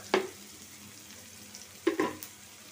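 Onions frying in a pan for a home-cooked ridge gourd stir-fry: a soft, steady sizzle broken by two sharp scraping stirs, with no one talking.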